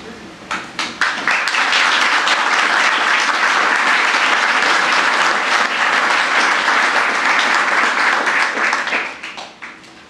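A city council meeting audience applauds and cheers for Lonnie and Paula Kerman, a loud, dense wash of clapping that builds quickly, holds steady for several seconds, then tapers off.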